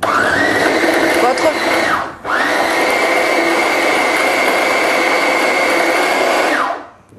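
A kitchen food processor whirs loudly and steadily while a fish crumble is being made, stopping briefly at one point before starting up again and then winding down at the end.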